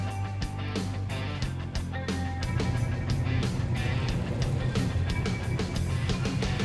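Methanol-burning V8 super stockcars racing on a New Zealand stockcar track at a teams championship night, producing a loud, continuous roar of engines with rising intensity and sharp crackling bursts throughout.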